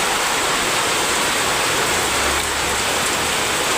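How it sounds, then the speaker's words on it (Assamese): Heavy rain pours down in a dense, steady, loud hiss that never lets up, with no voices over it. "কেনে বৰষুণ দি আছে"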